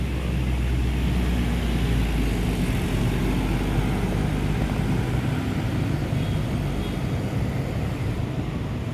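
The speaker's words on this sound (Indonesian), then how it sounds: "Sriwijaya Sleeper Jet Bus 5" A Sriwijaya Sleeper Jet Bus pulling into a roadside ticket stop at KM12 Palembang, its engine a loud, steady low rumble and roar that holds for the whole stretch.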